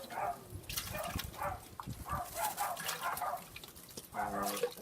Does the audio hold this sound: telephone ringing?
no